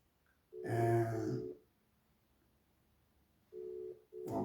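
Telephone line tones while a call is being placed: a fairly faint tone burst, a long pause of near silence, then two shorter bursts close together.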